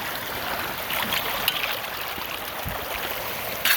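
Steady rushing water streams and trickles continuously around a gold prospecting setup, a dense broadband wash with no talk over it.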